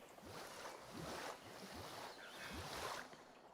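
Soft lapping water waves roll and splash gently in a Jurassic World Evolution 3 park, a faint, continuous washing with a light breezy hiss and no talk.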